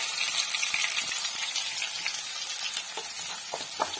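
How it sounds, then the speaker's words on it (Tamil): Onions sizzle and crackle steadily in hot oil for a pepper chicken gravy, with occasional scraping stirs, close up and without talk. "வெங்காயம் நல்லா வதங்கட்டும்"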